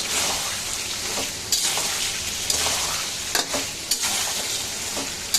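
Poultry chicken meat with chui jhal sizzles and fries in a pan, a steady close hiss with occasional stirring scrapes and clatters, no talking.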